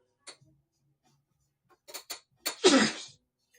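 A single close, sharp sneeze burst rings out, preceded by a few faint clicks and quiet breathy sounds.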